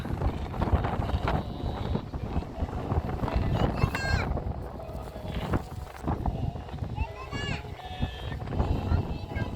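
Strong sea wind buffets the microphone on Seuldo island by the coast at Bangeo-dong, Ulsan, a steady loud rumble throughout, with a voice talking over it and faint traffic or other sounds behind.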